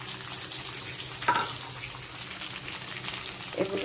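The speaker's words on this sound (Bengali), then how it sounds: "এগুলোকে হালকা ভাজা ভাজা করে নেব" Bay leaf, cardamom and onion fry in oil for khichuri, a steady dense sizzle filling the clip with a couple of faint clinks from a utensil.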